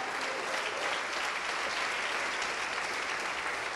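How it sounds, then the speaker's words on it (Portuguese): A church congregation applauds steadily during a worship service, a dense, even wash of many hands clapping throughout, loud and sustained with no talk over it. "Vamos aplaudir mais"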